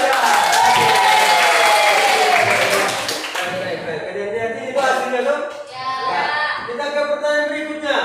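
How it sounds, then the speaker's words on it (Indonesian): Students in a classroom during a teacher's performance exam burst into loud, close applause for about three seconds, then the clapping gives way to an adult voice talking. "Bapak tepuk tangan dulu untuk kita ya."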